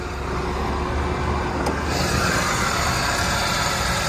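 A 2005 Acura TL's 3.2-liter VTEC six-cylinder with 163,000 miles idles in a steady, even drone, close by and alone.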